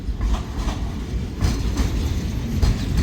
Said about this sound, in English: Pretty cool seeing an entire train just filled with finished product from a local mill.